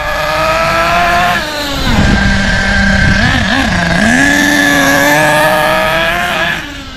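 A Thunder Tiger EB4 S2.5 nitro RC buggy engine, running rich during break-in, drones loudly and continuously nearby, its pitch dipping and rising slightly as the throttle changes, with no voices.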